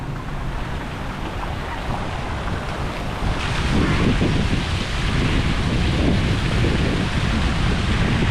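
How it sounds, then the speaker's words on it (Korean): Strong wind near Darling Harbour, Sydney, buffeting the microphone with a loud, continuous roar that grows heavier partway through, with a waterfront wash underneath and no voices. "이쪽으로 오니까 바람이 굉장히 많이 부네 와 바람 많이 분다"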